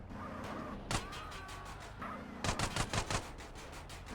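Rapid bursts of gunfire crackle over a constant low engine-like drone in GTA San Andreas, with several quick shots clustered toward the end.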